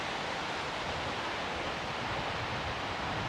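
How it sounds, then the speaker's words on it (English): Wind gusts over a fishing lake at a farm fishery, a steady, full broadband rush with no pauses, close and continuous throughout. "That wind is starting to get up again."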